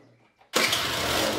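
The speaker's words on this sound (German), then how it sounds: "Ihr hört, der Roller geht aus." A two-stroke scooter engine with carburetor air-fuel mixture being adjusted suddenly catches after near silence, jumping into a loud, steady, buzzing run held close to the microphone.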